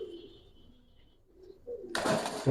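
A pair of pigeons coo softly in low, rolling calls at a pigeon stall in a Bangladeshi cattle market, followed by a sudden loud burst of broadband market noise close by.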